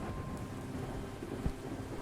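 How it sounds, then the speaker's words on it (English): Steady rain falls over Paris in the Cthulhu adventure game Gibbous, a dense continuous wash with a low thunder rumble underneath, no voices. "Still Paris. Still in the rain."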